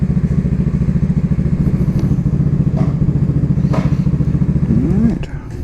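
A Cougar Vitacci XMT 250 motorcycle engine on a test ride, a loud, close, steady pulsing thrum with a fast even beat, easing off and dropping in level near the end, with faint clatter over it.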